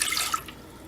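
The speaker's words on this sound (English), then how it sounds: "I'm going to pour these into my food processor" Lemon juice and tahini pour into a food processor for hummus, a brief close liquid splash and trickle that fades quickly, with no talking.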